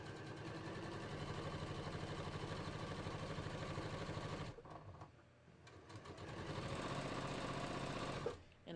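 A sewing machine stitches a sleeve on a fitted bodice with a fast, even mechanical whir that runs for several seconds, stops briefly, then starts again, fairly quiet and close.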